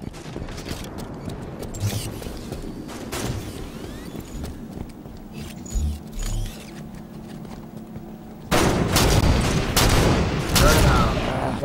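Sniper rifle shots in an online video game ring out among scattered sharp reports and clatter, louder near the end, with a dense burst of firing in the final seconds.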